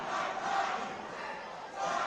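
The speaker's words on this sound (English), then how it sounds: "Well, I love the cheer block." Student cheer block roaring at a high school girls basketball game in a gym, a sustained loud crowd yell with chanting voices that dips briefly then surges again.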